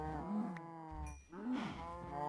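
Video game cows on a cow farm mooing in two long, drawn-out calls with a short pause between, clear and fairly close with no other sounds.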